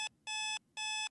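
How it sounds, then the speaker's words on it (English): A video game electronic alarm clock beeps in three evenly spaced, bright pulses, loud and close, with near silence between them. "The familiar beeping sound invaded my sleep."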